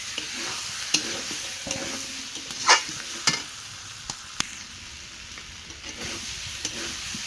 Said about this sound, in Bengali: মশলায় তেল ছেড়ে দিয়েছে, এখন দিয়ে দেবো মাছগুলো।